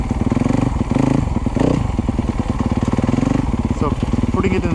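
A Yamaha YZ250-series dirt bike engine lugs at low revs in second gear through the woods, a close, loud, chugging pulse with uneven throttle surges and clatter.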